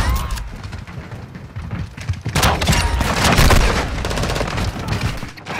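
Continuous gunfire from a Call of Duty match on the Shipment map, dense rattling shots building after a quieter start into a loud, sustained barrage of overlapping fire.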